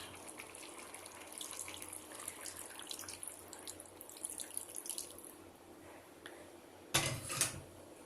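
Water runs from a tap into a pot of Bengali-style rohu fish curry, a continuous splashing stream with light clinks, ending in a brief louder gush near the close.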